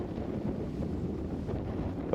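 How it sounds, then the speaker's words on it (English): Strong wind blasts up a cloudy hillside, a steady low roar and rumble buffeting the microphone throughout, close and loud with no pauses. "As you can hear the wind blasting up the hill."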